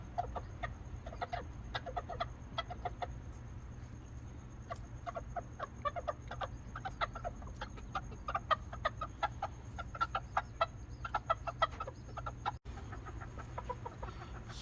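Tiny miniature chickens, a small rooster and hen, cluck in short repeated calls throughout over a steady low hum, fairly close and moderately loud with no talking.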